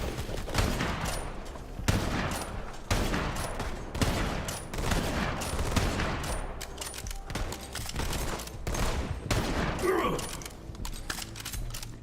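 Video game gunfire in Borderlands, with rapid repeated shots in dense bursts and sustained volleys across the whole stretch, mixed with game effects, loud and continuous.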